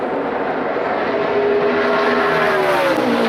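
NASCAR Xfinity Series stock cars racing at Texas, a loud continuous roar of several engines with rising and falling pitch as cars sweep through the final corners, steady and close.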